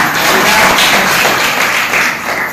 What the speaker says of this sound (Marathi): आपण सगळीजण त्यांचं स्वागत केलं पाहिजे एक टाळ्या वाजवून